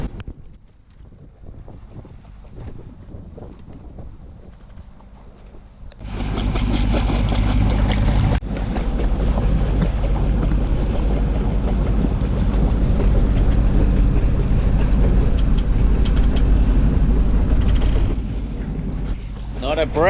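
Sailboat motoring under engine power in calm, windless conditions against the tide between Homer and Kodiak, Alaska; faint at first, then a loud, steady engine drone with wind buffeting the microphone, and a voice speaks briefly.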